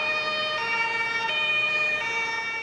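A loud German ambulance siren wails close by, its two-tone pitch switching back and forth in a steady cycle.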